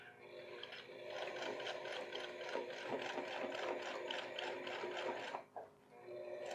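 A sewing machine topstitches the waistband of a pair of men's pants, a quiet, fast clattering run of needle strokes that keeps going for about five seconds, breaks off briefly, then starts up again.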